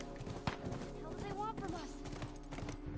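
Horse hooves clip-clop steadily in The Last of Us game, a quiet, even trot heard under a voice with low background game ambience.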